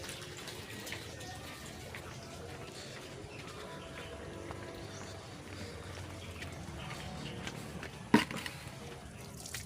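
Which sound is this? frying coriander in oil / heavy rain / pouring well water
pouring well water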